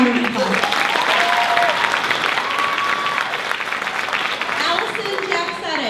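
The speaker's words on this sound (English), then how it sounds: "so let's give them a round of applause." A ceremony audience gives a round of applause, a dense continuous clapping that stays loud throughout, with voices and some crowd noise in the background.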